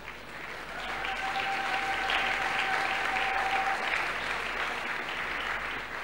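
A congregation at a church service applauds in a dense, sustained burst of clapping that fills the space evenly before easing slightly toward the end.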